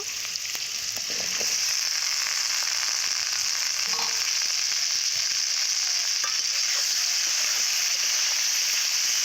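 Okra sizzling in hot oil in a pan after potatoes, a steady broad frying hiss running the whole time with a few soft stirring clicks, close and alone.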